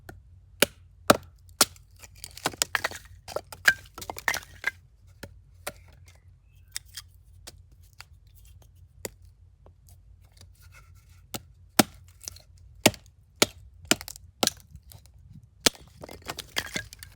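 Wood is split by batoning with a Mora Kansbol fixed-blade knife, giving sharp, dry cracks and knocks at irregular intervals, close and crisp over a quiet outdoor background.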